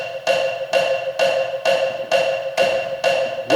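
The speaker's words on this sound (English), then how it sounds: "I will instead use a click for just a second" Metronome clicks at 130 beats per minute, sharp and evenly spaced, about eight ticks sounding alone and close with nothing else around them.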